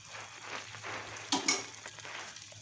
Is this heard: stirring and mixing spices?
yes